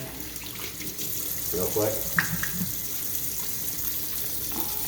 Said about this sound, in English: And then we're gonna wash our hands again.